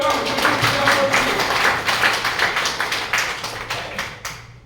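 Audience at a real estate group event clapping loudly on cue during a managing director's speech: a dense burst of applause that thins into scattered, separate claps and fades toward the end.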